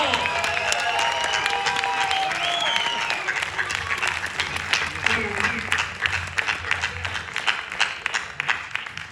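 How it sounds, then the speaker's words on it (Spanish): Audience applause and some cheering for an award winner at a film festival panel, a crowd clapping steadily that grows denser and louder over nine seconds, with voices and chatter audible underneath at first. "¡Fuerte aplauso!"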